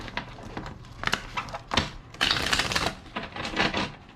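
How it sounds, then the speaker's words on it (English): Crisp riffling and soft slaps of cards being shuffled, several quick bursts in a row, close up with no talking. "Two more shuffles."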